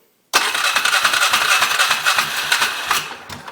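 A Polaris Sportsman 500 ATV with a modified air intake fires up abruptly after a moment of silence and settles into a loud, close, rattly idle that runs on steadily with slight irregular pulses.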